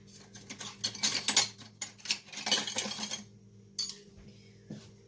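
Spoon clinking and scraping against dishes while dessert cream is prepared, a run of bright metallic taps in quick irregular bursts, close and fairly soft, ending with a few isolated clinks after a pause.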